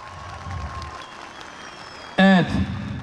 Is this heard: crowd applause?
yes